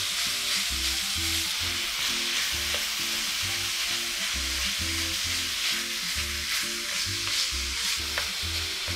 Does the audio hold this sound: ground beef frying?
yes